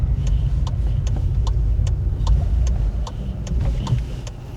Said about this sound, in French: Et on va se garer à côté d'elle en marche arrière.